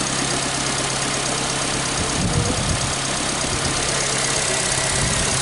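A Nissan Versa, one with a battery that drains overnight, idles steadily nearby with a constant low hum and faint vibration, running alone without pauses.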